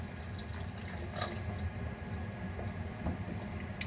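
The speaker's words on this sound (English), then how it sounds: "I'm going to add, I would say, about 200 mils of water" Water poured into a thick lamb meatball masala curry in a pot, a steady close splashing stream running the whole time without speech.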